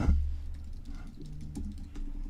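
Typing on a computer keyboard, a quick run of light, irregular key clicks close up after an initial thump, steady for a couple of seconds.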